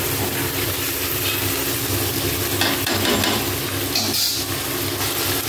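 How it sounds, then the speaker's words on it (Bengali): Mutton pieces frying and being stirred in hot oil in a pan, a steady broad sizzle running unbroken throughout with light scraping movements, no voices. "আমি এখন মাটনগুলোকে ভেজে দেব, ভেজে তেলের সাথে কষিয়ে নেব"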